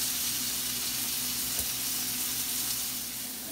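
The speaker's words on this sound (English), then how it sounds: "Let's see, we got a nice sear going there." Steak searing in a hot pan, giving off a steady, dense sizzle that holds evenly for a few seconds, close and alone with no voices.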